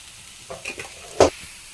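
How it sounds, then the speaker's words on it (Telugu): Ginger paste gets stirred and fried in a pan, heard as three short spatula scrapes over a soft frying hiss, the last one loudest. "మంచిగా అయితే మిక్స్ చేసుకోవాలి అల్లం పేస్ట్ అది పచ్చివాసన పోవాలి"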